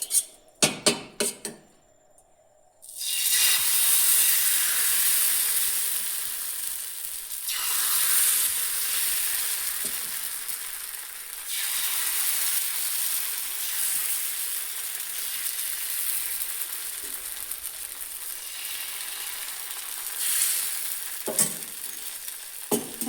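Chira pitha batter sizzles steadily on an oiled pan after a few clanks of utensils, frying loudly and evenly for a long stretch with occasional scraping.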